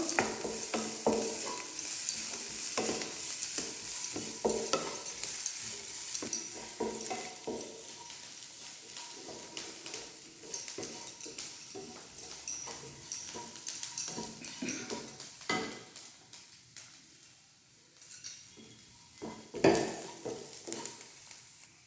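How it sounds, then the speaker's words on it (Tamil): Onions fry lightly in a pan, giving a steady close sizzle with intermittent stirring scrapes, no talking. "வெங்காயம் கொஞ்சம் லைட்டாக ஃப்ரை ஆகட்டும்."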